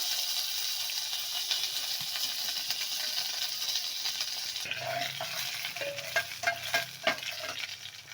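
Mustard seeds, garlic and curry leaves temper in hot oil for a brinjal saaru, a steady close frying hiss, then popping seeds and sharp spatters near the end, loud and continuous with no voices.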